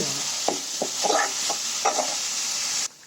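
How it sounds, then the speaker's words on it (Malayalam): Jackfruit seeds being stirred in a pan for a Kerala-style stir-fry, giving repeated scraping spoon strokes over a steady close sizzle that cuts off abruptly near the end. "ഇതൊന്ന് ഇളക്കി കൊടുക്കണം"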